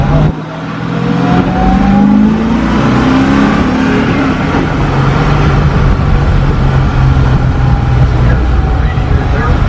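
Someone's BRE Datsun 510 street car pulls away with a rising engine note, then settles into a steady cruising drone heard from inside, loud and continuous while people talk over it.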